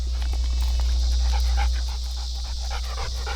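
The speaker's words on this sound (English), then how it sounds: "These 2 dogs have really never played much together" Two dogs pant rapidly and rhythmically close by while playing together, with faint whimpers mixed in over a steady low hum.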